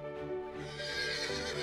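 A horse neighs loudly in Animal Revolt Battle Simulator, a long shrill whinny heard close and on its own.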